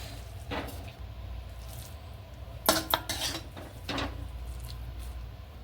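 Carrot halwa scooped from a pan onto a plate, with soft clinks and scrapes of a spoon against metal cookware and a few sharper taps, quiet and close with no talking.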